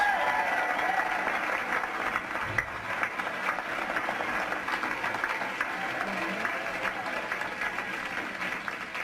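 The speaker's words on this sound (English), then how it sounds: "Give her a round of applause." A seminar audience applauds steadily, a dense wash of many hands clapping at a sustained level for several seconds, filling the room.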